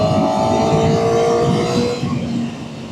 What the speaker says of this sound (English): I actually don't dislike the sound of the standard exhaust.